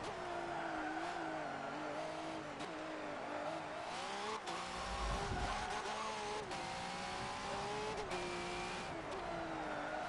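Holden V8 Supercar race car engine in the Forza 7 video game at Bathurst, a loud sustained high-revving wail with pitch rising and falling through gear changes and braking into a hairpin, plus a brief low thump midway.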